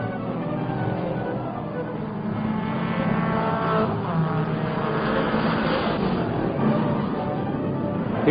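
Tired, dirty race cars roll slowly toward the finish at the end of the 24 Hours of Le Mans, giving a continuous engine drone with gentle swells as they pass, heard at a distance through a muffled, narrow recording.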